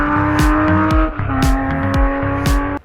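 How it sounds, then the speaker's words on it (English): A McLaren GT races around the Dubai Autodrome track, its engine loud and close as it revs hard and drops through repeated gear shifts, pitch climbing and falling in quick cycles with no talk. "taming this beast on the Dubai Autodrome track feels at home, because the Mclaren GT is born to be on track"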